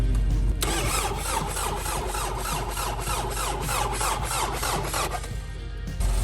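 VW-powered Bugatti replica being cranked by its starter, a rapid rhythmic churning with squealing whine that runs steadily for several seconds before cutting off, loud and close with no voices.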